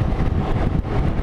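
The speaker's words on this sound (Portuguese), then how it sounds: "Aqui você sente o vento no rosto com mais gosto" Strong wind buffets and roars steadily past the microphone on a Yamaha Fazer 250 motorcycle riding along a highway, a loud continuous rush with low rumble throughout.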